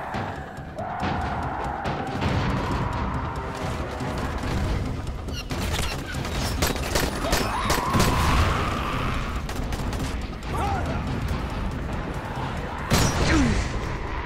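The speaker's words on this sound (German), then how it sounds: "Aus Versehen aufs Fass geschossen." Gunshots striking a barrel in the zombie game Dying Light, with rapid cracking shots and impacts over a busy, noisy background, with a sharper crash partway through.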